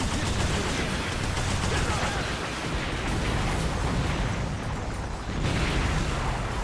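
Dense, continuous bursts of gunfire and explosions in the video game Earth Defense Force 5 fill the clip, loud and chaotic with a rumbling low end and no break.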